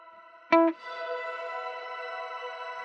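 After a brief bright guitar-like attack, a shimmer reverb with pitch shifting blooms into a sustained, shimmering pad of stacked harmonics that holds steadily to the end, with no talking.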